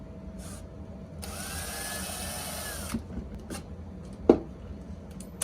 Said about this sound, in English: I'm going to drill out the hole so the nail fits as snug as possible in there